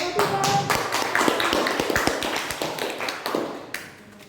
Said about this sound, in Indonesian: Ibu berikan aplaus untuk kelompok 3 ya.